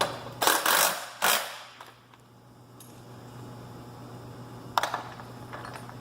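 A ratchet spins a nut onto a trailer axle T-bolt, giving a few close, sharp bursts of rapid clicking early on, then quiet with a faint hum, and another short clicking burst near the end.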